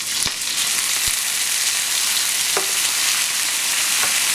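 Beef shank fries in a pan for adobong bulalo with a loud, dense, continuous sizzle, broken by a few sharp clicks and taps of a utensil; no one speaks.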